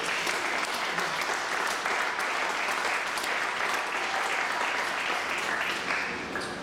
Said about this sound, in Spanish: Dale un aplauso al nombre de Yahweh.